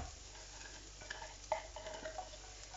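Chopped garlic roasts in a pan, a faint, steady sizzle with soft stirring and a few small crackles.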